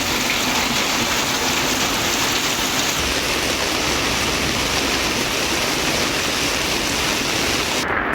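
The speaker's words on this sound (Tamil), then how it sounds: "நேற்று மாலை இடி மின்னலுடன் கனமழை பெய்தது" Heavy rain pours down in a thunderstorm, a dense, loud and continuous hiss of water hitting surfaces with no voices over it.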